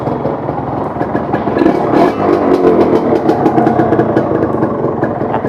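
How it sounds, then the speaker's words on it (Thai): A Yamaha VR150 motorcycle engine runs close by, loud and steady, with quick rhythmic pulses and a brief rise in revs about two seconds in. "เครื่องเงียบฮะเครื่องเงียบๆแน่นๆเลยนะครับ บิดติดมือดีฮะ"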